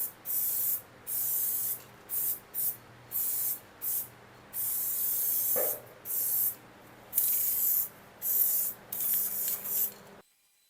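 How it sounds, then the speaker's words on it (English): Raptor liner bed coating is sprayed onto Chevy Colorado truck parts in a string of close, loud hissing bursts, each lasting about half a second to a second with brief pauses between, ending in silence. "So I'm probably just going to go ahead and spray both parts, the whole thing."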